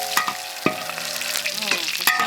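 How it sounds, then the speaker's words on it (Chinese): Ginger and garlic stir-frying in a little oil in a wok for kung pao chicken, a steady close sizzle broken by several sharp scraping stirs of the spatula, with no voices. "姜蒜先下锅炒。"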